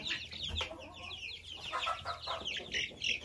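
Marans and crested chicks cheeping and clucking close by, a busy overlapping run of small high peeps and soft calls with faint background noise.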